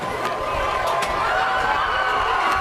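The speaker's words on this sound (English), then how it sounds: "And you can hear the crowd here tonight" A high school football crowd in the stands at a night game between Northview Academy and West Greene, a steady wash of distant cheering and chatter, sustained and even without distinct bursts.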